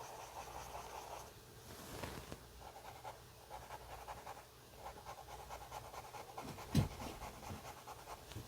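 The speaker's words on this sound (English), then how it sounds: "My dog is getting comfortable over there, making a lot of noise." A dog pants and shuffles nearby during a quiet pencil drawing session, faint rhythmic breathing with soft rustling and one brief louder bump partway through, no talking.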